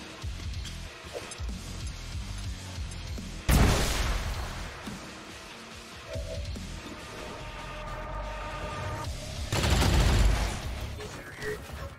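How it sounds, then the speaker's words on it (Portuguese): Grenade blasts in XCOM 2, two loud booming explosions several seconds apart over low battle rumble and scattered gunfire. "Outra granada para começar."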